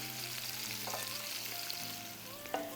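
Onions sautéing in a pan, almost turning brown, give a steady close sizzle with a dense frying crackle throughout and a few faint stirring scrapes, no voices.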